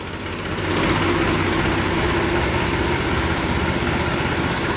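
A farm machine engine working a sugarcane field catches and settles into a steady, loud, rattling run after a brief quieter start, continuing close by without any talk.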